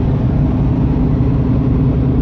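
Dodge Charger muscle car engine rumbling close by, a loud, steady low drone that holds throughout with no pause and no voices.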